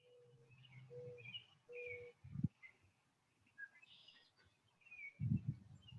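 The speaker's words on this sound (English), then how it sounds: "Listening to the birds." Soft bird calls and chirps from a distance, with a low cooing and a couple of brief rustling bursts, quiet overall.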